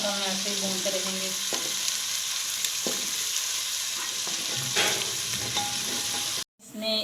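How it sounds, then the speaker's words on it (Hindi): Potatoes and moong stir-frying in a pan produce a close, steady sizzle with stirring scrapes, running without speech until it cuts off briefly near the end. "इसको 3-4 मिनट तक हम ऐसे ही भूनते रहेंगे।"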